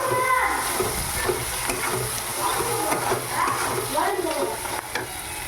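Onion and capsicum with salt and turmeric frying in a kadai for Schezwan chicken, a steady close sizzle with scraping stirs throughout, no talk.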